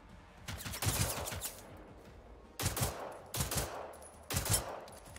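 Killer robot gunfire in the video game Generation Zero comes in several sharp bursts of rapid shots separated by short pauses, moderately loud with no voices.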